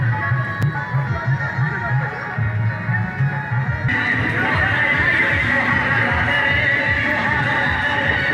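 Horses neigh loudly and repeatedly amid a religious procession with chariots and vehicles, hooves clip-clopping under a dense, constant crowd and music din that grows fuller partway through.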